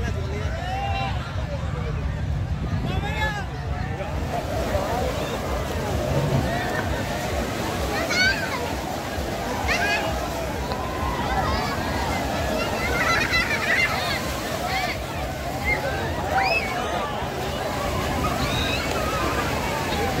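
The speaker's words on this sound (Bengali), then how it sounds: "এখানে প্রচন্ড ঢেউ আছে, প্রচন্ড।" Strong sea waves wash and slosh continuously at Calangute Beach in Goa, a broad steady roar mixed with crowd babble and people talking nearby.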